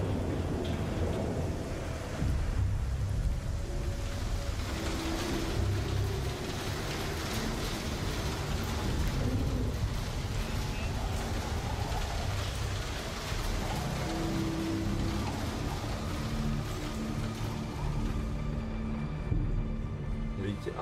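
Steady heavy rain pours in the Star Citizen Genesis demo, with low rumbling thunder rolling underneath, a dense continuous wash lasting the whole stretch at an even, fairly loud level.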